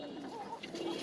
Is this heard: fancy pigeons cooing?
yes